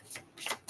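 Quiet, brief riffling bursts of a tarot card deck being shuffled, two or three soft flutters close by.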